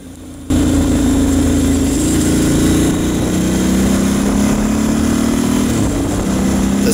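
A Ducati Hypermotard 1100 motorcycle engine under way, a loud steady droning rumble that starts abruptly and holds with slight shifts in pitch, close and alone with no talk.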